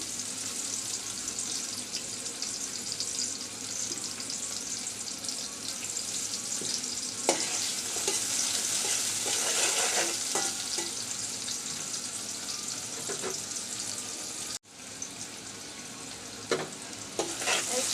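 Onions frying in a pan, a continuous sizzle with occasional scraping stirs, steady and close with a brief dropout near the end, no talking.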